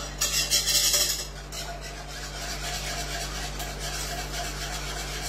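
Chocolate cannelé batter stirred in a pan, a soft, steady scraping and rubbing of utensil against metal, a little louder at first, then an even, continuous swirl.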